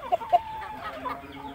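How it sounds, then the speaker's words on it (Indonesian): Indio Gigante chickens cluck close by, two short sharp clucks followed by softer, drawn-out murmuring calls, with no talk. "ayam indio ya."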